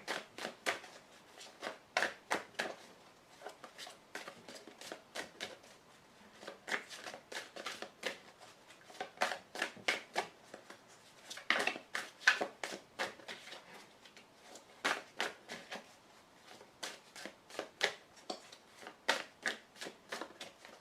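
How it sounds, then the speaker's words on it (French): Playing cards are cut and drawn one by one for a card reading, producing a series of crisp, close slaps, flicks and shuffling rasps in irregular bursts across the whole stretch, with no voices heard. "Je prends 5 cartes."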